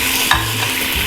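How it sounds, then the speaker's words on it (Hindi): Ginger paste hits hot oil with golden fried garlic for a degi-style chicken korma, giving a brief, loud, continuous sizzle with a stir. "अब मैं इसमें अदरक पेस्ट भी ऐड कर दूँगी 2 टेबलस्पून"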